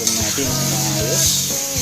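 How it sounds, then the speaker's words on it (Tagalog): Milkfish (bangus) frying in a pan, a steady loud sizzle with hissing oil filling the background, while a voice talks over it throughout. "Fry yung ating bangus."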